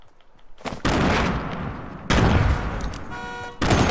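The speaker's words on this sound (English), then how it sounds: "I'm throwing grenades" Grenades exploding in Fortnite, two loud blasts that each trail into a long crackling roar, with a third burst starting at the end.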